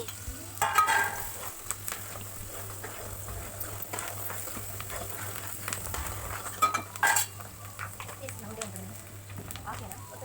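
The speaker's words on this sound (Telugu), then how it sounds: "కొంచెం పసుపు కొంచెం కరివేపాకు వేసుకుని ఇలా కలుపుకుంటూ ఫ్రైలాగా చేసుకోవాలండి" Turmeric and curry leaves frying in a pan with onion and green chilli, stirred with a utensil, give a soft sizzle and scattered scraping clinks under an ongoing voice, with a low steady hum throughout.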